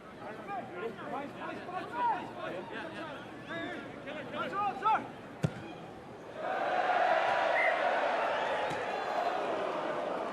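Ulster rugby fans at a home match against Aironi let out a rising, ribald crowd cheer, a broad roar swelling after a stretch of commentary and holding steady to the end.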